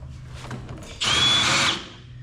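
A power drill bores up through the underside of a soft steering arm while fitting heavy-duty Heim steering, a single loud, steady whine lasting under a second, close and alone after faint background noise.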